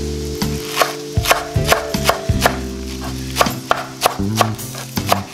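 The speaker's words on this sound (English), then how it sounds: "let's go ahead and get it nice and close so you can see how I slice up these green onions" A knife slices through green onions on a cutting board in a home kitchen, a quick run of sharp, close chopping taps in an uneven rhythm, with faint music underneath.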